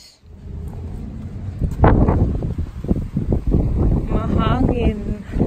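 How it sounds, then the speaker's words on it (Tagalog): Gusty outdoor wind buffets the microphone with a steady low rumble throughout, with a muffled voice briefly audible beneath it. "windy today"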